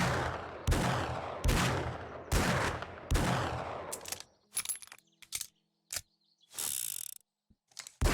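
Revolver gunfire in the 7 Days to Die video game, five loud booming shots in quick succession followed by clicks, mechanical reloading clatter and short metallic game effects.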